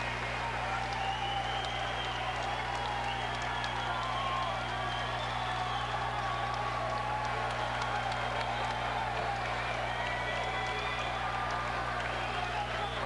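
Home crowd at a UNC college basketball game against Indiana, a steady loud roar of cheering and applause filling the arena after a made free throw, sustained throughout with scattered whoops.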